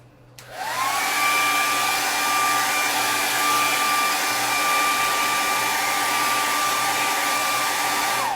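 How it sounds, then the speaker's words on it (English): A handheld blow dryer runs nonstop to speed-dry paint on an Easter Peeps painting: a loud, steady whirring whine that starts abruptly within the first second and holds unchanged to the end, with no talking. "I think I'm gonna use the blow dryer just to speed up this drying process."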